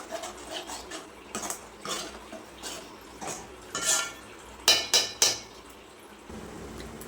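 A spoon stirs fish curry masala in a pot, clinking and scraping against the metal in a few scattered strokes, with a cluster of sharper clanks near the end, close and moderately loud with no talking.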